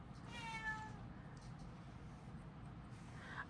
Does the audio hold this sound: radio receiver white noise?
no